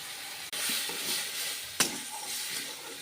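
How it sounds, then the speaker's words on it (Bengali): A spicy-sour fish curry is stirred in a pot, with a soft bubbling sizzle and a sharp clink of a utensil against the pot partway through. "এবার ঢাকনা উঠিয়ে এটাকে নেড়ে নিচ্ছি"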